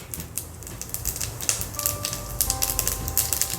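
Mustard seeds and cumin crackle and pop in hot oil for a tadka, a dense run of sharp, irregular popping with brief high pings, close and continuous.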